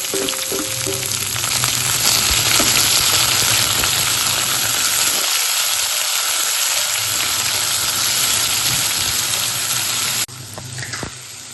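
Sri Lankan food fries in a hot pan until browned, giving a loud, steady sizzle with constant hissing and crackle that briefly dips midway, then continues before a change near the end.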